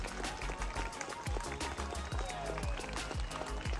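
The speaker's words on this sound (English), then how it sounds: "Listen to the crowd, you can hear them cheering and applauding" A crowd cheers and applauds at an outdoor drone show during a Truth and Reconciliation weekend event, with a dense, steady wash of clapping and voices mixed with low, thumping music.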